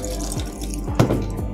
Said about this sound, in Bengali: এবার জল পড়ছে।